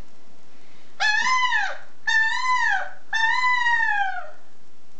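A voice imitates a peacock with three loud, evenly spaced wailing calls, each about a second long and falling at the end, close up with quiet gaps between them.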